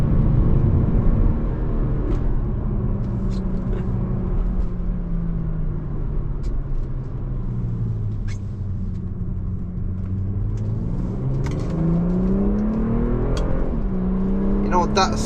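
A BMW M340i G20 in Sport Plus mode pulls hard from inside the cabin, its engine note climbing and dropping through gear changes as a low steady rumble fills the background, with someone talking over it.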